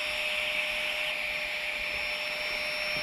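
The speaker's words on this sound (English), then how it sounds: "How quiet's that pump? Right, well it's going up now." An electric air pump runs steadily to inflate a tent at a camping spot by disused locks, giving a continuous close whirring drone with a high whine and no talk.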